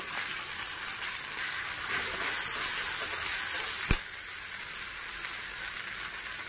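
Masala frying in oil for egg curry makes a soft, steady sizzling hiss that runs unbroken, with one sharp click partway through.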